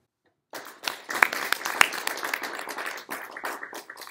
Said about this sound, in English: So why don't we have a round of applause for Nicholas Meyer